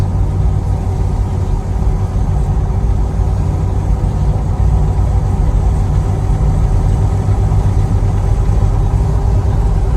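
A 1991 Dodge Ramcharger with diff lockers and upgraded gears cruises down the road, its engine a steady, close low rumble with road noise that holds level throughout, no voices.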